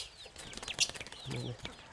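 Native (naadan) chicks and chickens cluck and chirp in a steady, close flurry of short calls, with a faint voice in the background.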